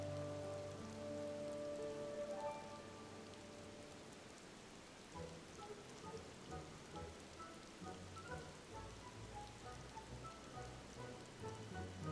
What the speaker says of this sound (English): It's now raining.